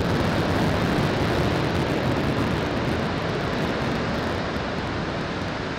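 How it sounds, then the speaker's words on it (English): A water deluge system at the SpaceX Starbase launch site runs its full-pressure test, making a steady, dense roar of rushing water heard from a distance that holds unchanged throughout. "this week we had an amazing show with the very first full-pressure test of the water Deluge system"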